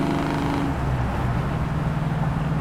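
The 440 big block engine of a 1968 Dodge Charger shifts gear from inside the car, its loud steady rumble dropping in pitch at the change, then building again, with no talk over it.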